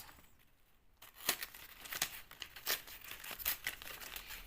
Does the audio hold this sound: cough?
no